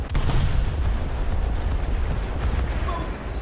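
A torpedo blast in a naval submarine game, a loud booming explosion with a heavy low rumble that rolls on and slowly settles.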